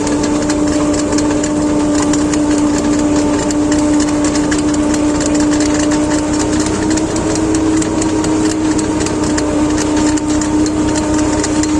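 A tractor engine runs steadily with a working hay windrower (rake) in a field, a loud continuous drone with a fixed hum and rattling mechanical texture throughout, no voices.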